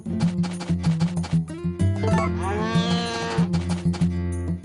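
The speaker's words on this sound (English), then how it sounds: "That's the sound of an angry cow." Cow mooing in the farm game Harvest Moon: A Wonderful Life, a repeated low bellow heard loud and close over steady game music, with a longer drawn-out moo in the middle.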